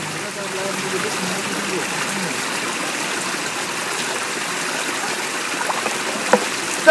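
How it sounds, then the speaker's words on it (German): Water from a stream at a spring in the Eifel rushes and trickles in a steady, close, continuous wash, with a few small knocks near the end. "Die Geräusche sind natürlich stark von dem Wasser."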